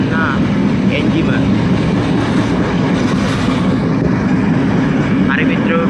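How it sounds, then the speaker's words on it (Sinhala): An intercity train engine rumbles loudly and steadily on a railway journey to Puttalam, with a dense low drone and a few brief high squeals over it. "ඒක ඇවිල්ලා ඉන්ටර්සිටි ඒ කියන්නේ නගරාන්තර සීග්‍රාමී දුම්රියන් වලට යොදා ගන්නා එන්ජිම."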